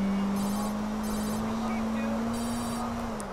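A mobile phone ringtone inside GTA IV sounds in short repeated bright bursts over the steady low drone of an in-game car engine.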